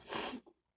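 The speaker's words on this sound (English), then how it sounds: "Cat sneezes." A cat sneezes once, a sharp, breathy burst lasting about a third of a second, trailed by a faint, soft snuffle, close up with nothing else around it.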